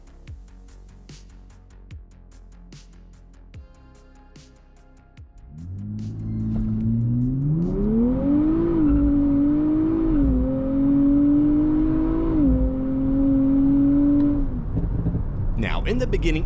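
A 2024 Nissan Z NISMO pulls away on the road, its engine note rising through the revs with a gear change, steady and fairly close, after a quieter stretch at the start.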